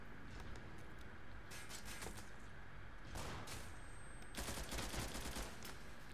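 Gunfire bursts from the online shooter Zula, rapid overlapping shots and an automatic-weapon volley in the second half, moderately loud over a steady background hum with no talk.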